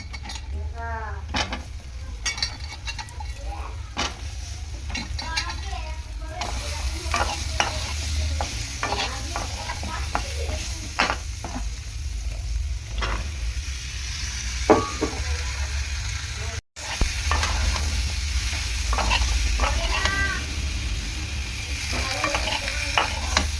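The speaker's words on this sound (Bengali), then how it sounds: "ভালো করে সবজিগুলোকে কষিয়ে নেব।" Cut vegetables with turmeric and chilli powder sizzle steadily in a hot pan while a spoon stirs and scrapes, making repeated clinks and rasps over the continuous frying for about twenty seconds.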